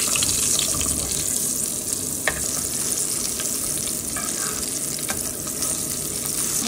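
Flour-coated fish frying in hot oil, a steady dense sizzle with occasional sharper crackles and faint clinks of utensils, no voices.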